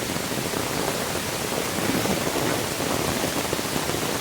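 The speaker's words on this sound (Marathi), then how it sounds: "पाऊस एवढा जोरदार पडतोय आहे" Heavy monsoon rain pours down in a Konkan forest during river flooding, a loud, unbroken roar of drops hitting the ground and foliage that stays constant throughout with no voices.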